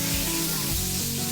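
Garlic dropped into hot cooking oil over high heat sizzles with a steady, loud, hissing spray that fills the whole moment without pause.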